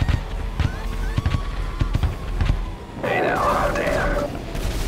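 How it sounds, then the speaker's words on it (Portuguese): Explosions from an AC-130 gunship attack in the GTA V video game: repeated sharp blasts and bursts of gunfire, then a louder rumbling detonation with crackling debris, heard in close succession. "Tá explodindo tudo."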